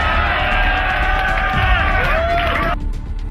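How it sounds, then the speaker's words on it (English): A crowd at the Kerser vs 360 Australian hip hop rap battle reacts loudly, with dense cheering, whoops and shouting close by that cuts off abruptly near the end. "Every rebuttal was met with a noise from the crowd"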